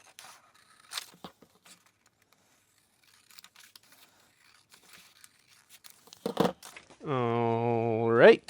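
A paper pattern for a leather axe sheath is cut out by hand, giving faint, scattered crinkling and snipping sounds in a quiet room, followed near the end by a louder sustained tonal hum.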